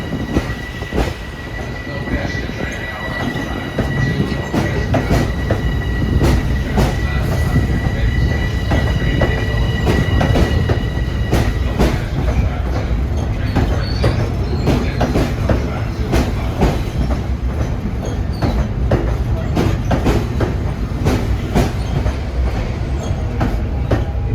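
A Long Island Rail Road train bound for Grand Central passes through Jamaica station, a loud, sustained rumble with rapid wheel clatter and brief squeals from the rails running throughout.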